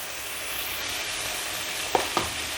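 A masoor dal and egg mixture fries in a pan with a steady, close sizzle, and two quick utensil clinks come near the end as it is stirred.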